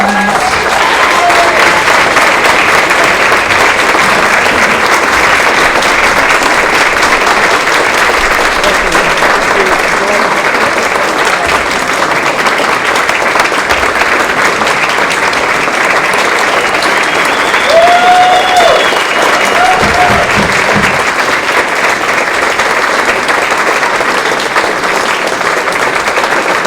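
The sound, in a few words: audience applause at a town meeting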